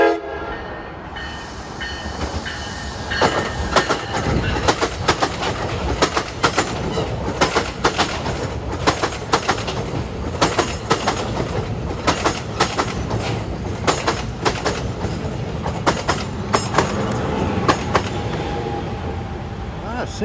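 An NJ Transit commuter train bound for Dover pulls in along a busy line, loud and close throughout with dense clattering wheel noise, rumble and sharp rhythmic clacks over the rails, a horn sounding, and voices faintly in the background.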